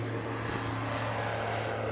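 A propeller airplane drones steadily overhead while practicing landings and takeoffs, its engine a continuous loud rumble with a fairly constant pitch and no talking.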